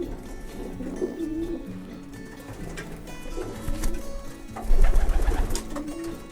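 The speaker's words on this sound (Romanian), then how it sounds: "un porumbel deosebit, foarte frumos" Pigeons cooing in a racing pigeon loft, several soft throaty coos rising and falling close by, with a burst of louder cooing and fluttering toward the end.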